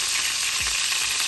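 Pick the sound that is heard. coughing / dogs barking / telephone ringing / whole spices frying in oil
whole spices frying in oil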